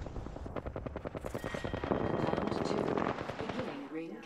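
Rapid automatic gunfire bursts in the Apex Legends video game, a dense run of fast, loud shots that carries through a sustained stretch before tapering off, with a player's voice mixed in.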